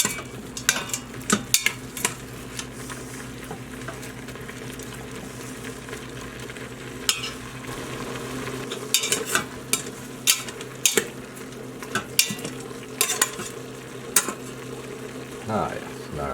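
Onions cooking with minced garlic in an Instant Pot, making a soft, steady sizzle with intermittent sharp scrapes and clicks of a utensil against the pot, close by, over about sixteen seconds and with no talking.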